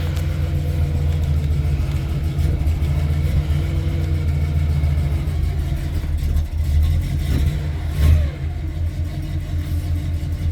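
A 1968 Oldsmobile Delmont 88 V8 idles rough and rumbling with a sticky choke, holding a close, steady, loud low drone with a brief blip of revving near the end, no talking.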